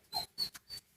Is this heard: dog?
yes